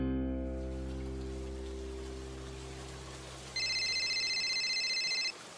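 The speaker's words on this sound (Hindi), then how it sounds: "सुबह 7:30 बजे लगातार मोबाइल बजने से शत्रुघ्न की नींद खुल गई" A mobile phone rings with a repeating electronic tone over steady soft rain, after a low fading drone at the start.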